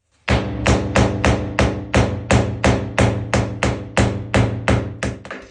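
Steady hammer blows strike porcelain stoneware tile about twice per second, each a sharp crack with a brief ring, close and loud with no talking.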